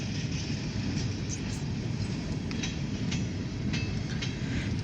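A Norfolk Southern local mixed freight train of about 21 cars rolls steadily past in Meadville, Pennsylvania, a close, continuous rumble with periodic clacks of wheels over rail joints throughout.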